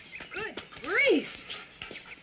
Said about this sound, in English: I didn't realize you meant this kind of a dog.